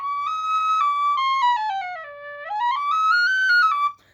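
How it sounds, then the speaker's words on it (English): A larger tin whistle, an Elfsong Enchantress model, plays a clear melodic phrase that dips lower in the middle and rises again, loud and close, with no talking, ending abruptly. "this is also a larger tin whistle than I usually play"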